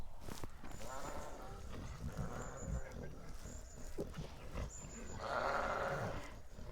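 Sheep bleat on a hillside along the Pennine Way between Dufton and Alston, with a few calls heard at moderate distance through wind and outdoor ambience, while a person speaks briefly.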